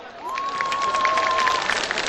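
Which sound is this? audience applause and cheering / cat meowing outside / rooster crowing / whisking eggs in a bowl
audience applause and cheering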